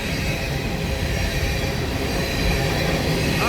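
An empty CSX grain freight train rolls past close by behind an older lead locomotive, a loud continuous rumble of wagons with wheel squeal and rail clatter, no talk.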